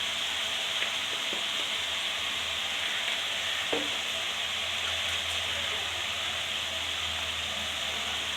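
Mutton fry sizzles steadily in a hot pan as it is stirred, with salt just added; a continuous close frying hiss runs throughout, broken by a few faint scrapes of the spoon and no talking.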